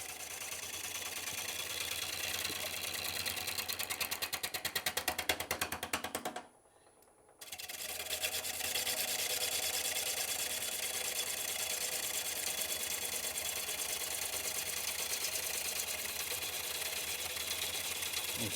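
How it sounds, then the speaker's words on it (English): A slow-turning wood lathe spins a spalted ash bowl, giving a steady, fine mechanical whir with rapid ticking texture, cutting out for about a second midway before resuming evenly at moderate, close level. "because the lathe isn't turning very fast, so this isn't making a very fast cut"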